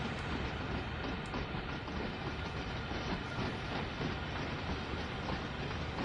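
A freight train with a gondola car passes in Train Sim World 2, a continuous dense rumble of rolling wheels and rail clatter at a steady moderate level throughout, with no talk.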